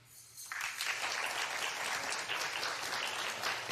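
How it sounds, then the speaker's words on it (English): Studio audience applause on a daytime talk show, a sudden burst of clapping that starts abruptly and holds steady as a dense, even wash for several seconds. "Clap if he should"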